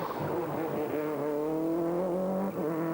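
A Mitsubishi Charisma Group A rally car on a Monte Carlo Rally stage sounds as a sustained, loud engine note rising in pitch as it passes close by, with no talk over it.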